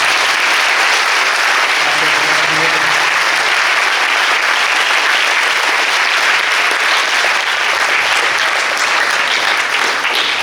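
Loud, sustained applause from a forum audience honoring parents and organizers, a continuous roar of many hands clapping with a faint voice briefly beneath it.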